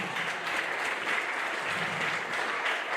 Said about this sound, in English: Give a round of applause for Aaron Jeremy.